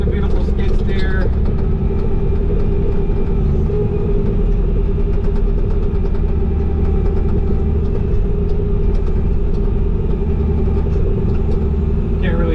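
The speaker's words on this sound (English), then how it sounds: "we're on the beautiful skid steer" A Bobcat T595 skid steer clearing land on a hillside runs continuously, its engine a loud, steady, close rumble that barely changes from start to finish.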